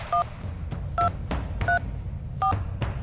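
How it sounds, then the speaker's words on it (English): Telephone keypad tones from a video game phone, four or five short distinct beeps spaced out at an uneven pace, each clear over a low background hum. "Who are you dialing?"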